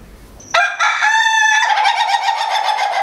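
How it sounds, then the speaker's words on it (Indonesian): A rooster next door lets out one long, loud crow that rings out close and clear for about two and a half seconds after a short quiet lead-in. No one speaks. "Maaf ya kalau ada suara ayam."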